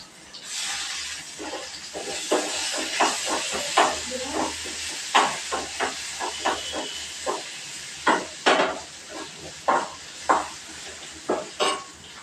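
Onion and ginger hit hot oil in a pan with a close sizzle, while a utensil stirs and scrapes in repeated short strokes over a steady hiss, with a voice faintly in the background.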